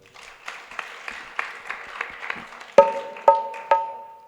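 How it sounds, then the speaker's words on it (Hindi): An audience at a Ram Katha religious discourse claps in rhythm, a few sharp claps repeating at an even pace, joined near the end by bright ringing strikes like a bell or cymbal. "जोरदार तालियां बजे।"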